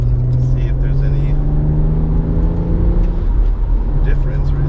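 A BMW 135i fitted with a VRSF charge pipe accelerates up a freeway on-ramp, its engine droning and rising steadily inside the cabin, with a person talking over it.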